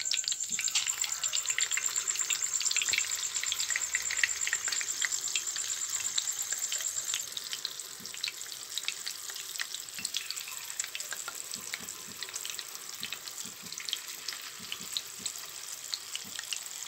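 Neyyappam, sweet rice fritters, deep-frying in hot oil: a dense, continuous bubbling sizzle, close and steady throughout, with small crackles and pops and a faint high whine early on.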